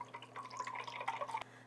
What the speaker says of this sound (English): Pour the remainder of your 4 cups